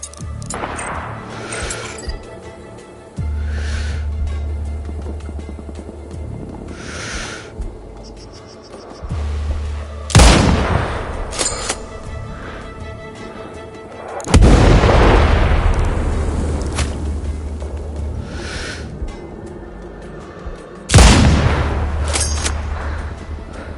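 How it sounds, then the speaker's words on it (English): Mortar rounds explode in a shooter video game, several heavy booms landing every few seconds over a loud, steady rumbling battlefield backdrop, each blast followed by a long rolling decay. "Tango under mortar fire."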